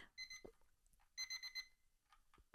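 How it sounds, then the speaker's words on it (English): A kitchen timer goes off in two bursts of rapid, high electronic beeping, quiet and fairly near, with brief soft noises between the bursts. "Oh, our timer's gone off."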